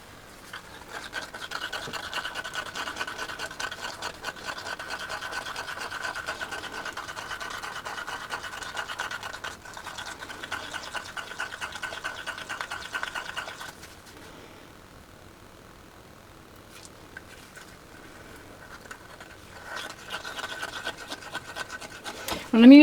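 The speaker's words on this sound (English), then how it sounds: "I like to squeeze the cup and drag the stick out so that the cup actually gets all the pigment" Popsicle stick stirring and scraping pigment inside a flexible silicone cup, a close, steady rasping and rubbing that runs continuously, stops briefly, then resumes with scratchy strokes.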